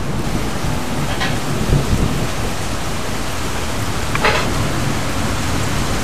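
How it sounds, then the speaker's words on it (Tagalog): Steady, dense rainfall hisses throughout, a constant wash of falling water with a couple of faint brief disturbances and no voices. "Umuulan!"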